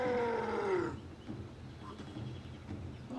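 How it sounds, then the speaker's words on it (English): A lion in the video game Conan Exiles, on the Isle of Siptah, gives a loud, deep roar that fades out, followed by lower rumbling game ambience. "Oh, there's the lions."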